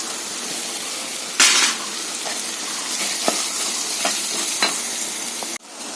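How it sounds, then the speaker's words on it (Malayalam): Onions cook in a pan while a spoon stirs them, making a continuous close sizzle with sharp scrapes and taps of stirring now and then, and no talking. "ഇപ്പോൾ ഉള്ളി നന്നായി വഴണ്ട് വന്നിട്ടുണ്ട്"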